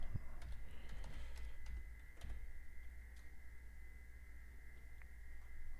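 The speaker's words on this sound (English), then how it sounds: "If you do hear typing, that's just me making alerts in the private community that I offer." Quiet, light tapping of keys on a computer keyboard, scattered clicks over a steady low hum, no voices.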